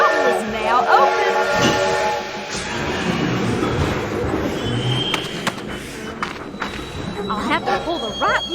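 Union Pacific train moving in the Lionel Trains video game, a continuous rolling rumble with clanking and metallic squeals and whistle-like tones over several seconds, with a voice speaking over parts of it.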